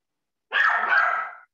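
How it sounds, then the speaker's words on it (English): A puppy gives a single short, sharp bark, close and fairly loud, standing alone against silence. "if you're hearing my puppy barking"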